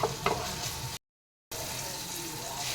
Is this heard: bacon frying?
yes